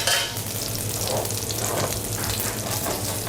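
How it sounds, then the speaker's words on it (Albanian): Asparagus frying lightly in a pan gives a steady, close, even sizzle throughout, with faint stirring scrapes and no talk. "Atëherë vazhdojmë me skuqjen e asparagut."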